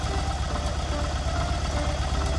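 A motorcycle engine idles indoors in an apartment, a steady, close, throbbing mid-low rumble that holds constant throughout with no talk.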